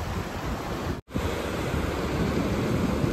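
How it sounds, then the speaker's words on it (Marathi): Sea surf rolling onto the shore at a Ganesh immersion outing, a steady loud wash of breaking waves with a brief dropout near the start, no voices. "माझ्या मागच्या बाजूला आहे समुद्र"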